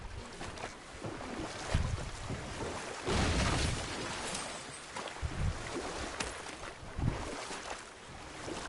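A boat moves steadily through water in the video game God of War (2018), with rushing splashes and wind noise that swell and ebb, continuous and fairly close.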